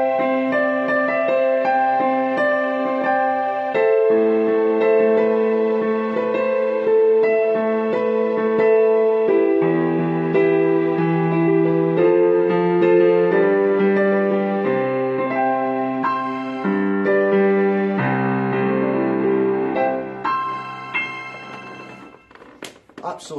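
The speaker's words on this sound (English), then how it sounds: "So I'm going to go piano and strings" A Yamaha YDP162 digital piano plays piano and strings voices layered together. Sustained chords and melody carry for the whole passage, with no talking, and the last notes fade out.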